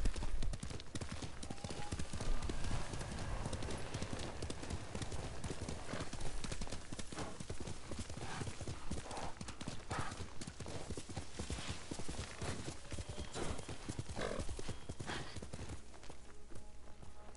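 Kage, the horse in Ghost of Tsushima, gallops in a continuous drumming of hooves with a whinny or two, loud and close, while a voice speaks briefly in the background.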